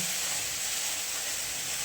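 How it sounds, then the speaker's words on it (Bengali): Pieces of fish frying in oil give a steady, even sizzle and hiss throughout, moderately quiet and with no voices. "মাছগুলো ততক্ষণ ভাজা হোক"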